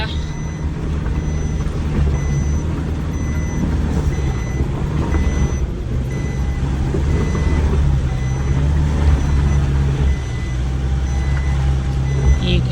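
A Nissan Navara pickup in Patoka, Hawke's Bay, climbs a steep post-cyclone track, its engine a steady close drone throughout with faint intermittent beeping tones above it and no speech.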